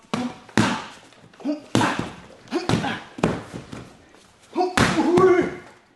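Repeated punches land on a body in a liver-shot drill, about seven hard thuds at an uneven pace, close and loud, with spoken voices between the blows.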